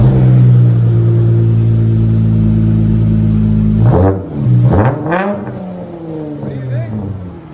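A Dodge Challenger with a 3.6L V6 and aftermarket exhaust drones at a steady high idle, then gets several quick, loud revs that rise and fall, with a brief spoken comment over the end.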